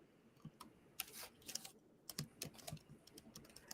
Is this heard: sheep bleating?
no